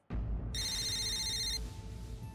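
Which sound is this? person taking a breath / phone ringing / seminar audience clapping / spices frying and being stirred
phone ringing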